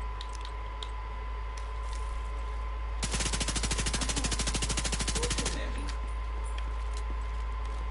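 Rapid automatic gunfire from The Division 2 shooter game, a dense burst of shots lasting about two and a half seconds over steady game ambience, with faint voices nearby.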